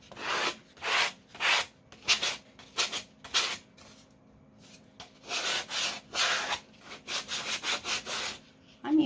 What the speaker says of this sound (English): I'm using a foam sander.